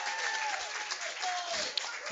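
A crowd applauds and cheers at a ninja competition, the Jungle Gym Open qualifier, on a Saturday morning. The clapping is steady and broad throughout, with an announcer talking over it.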